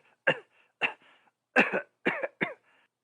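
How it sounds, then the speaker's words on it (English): A reader gives a run of five short, rough coughs during an Edgar Allan Poe audiobook, close to the microphone, with brief pauses between bursts and no talking around them. "How long have you had that cough?"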